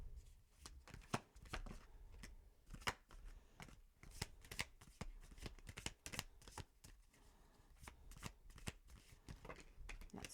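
Tarot cards shuffled by hand: a long run of crisp riffling flicks and slaps in an uneven rhythm, close but quiet, with no speech.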